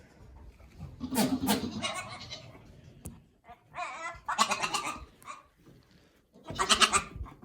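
Miniature goat kids bleating in a shared night pen, several loud, wavering cries in separate bursts with pauses between, close by, alongside a person talking.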